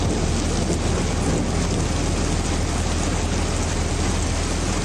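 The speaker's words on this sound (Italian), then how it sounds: "In un attimo il cielo torna a incupirsi, piove a dirotto" Heavy rain roars in a dense, unbroken wash over the mountains of the Boite Valley, with a low rumble of thunder underneath, loud and steady throughout.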